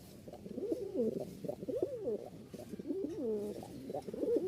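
A male and female pair of Rajshahi tiger Giribaz pigeons coo close by, giving a run of soft, rolling, warbling coos that rise and fall and continue almost without a break.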